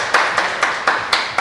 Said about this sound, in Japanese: 皆さんのね、拍手の音も入ってますよ